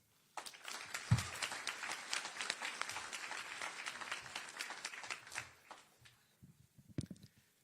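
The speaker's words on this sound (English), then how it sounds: "please give a big, warm round of applause to Dr." An audience at a Houston Livestock Show and Rodeo First Responders Day awards ceremony bursts into applause, with dense clapping for about five seconds that then thins out to a few scattered claps.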